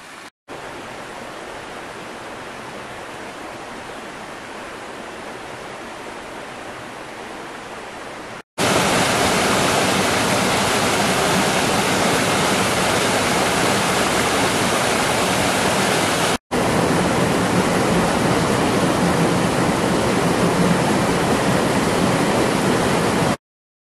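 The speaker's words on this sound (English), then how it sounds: "Got this side stream running next to me here as I'm walking down to Cannibal Gorge." A side stream beside a walking track down to Cannibal Gorge rushes continuously, close and loud, as a steady broadband wash of flowing water. The sound is briefly cut twice and then returns even louder.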